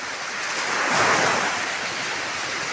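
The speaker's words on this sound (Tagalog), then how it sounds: "Napakaganda ng dagat" Sea waves washing onto the shore at Bukana beach in Naik, a steady close rush of surf swelling briefly, with light wind noise and no voices.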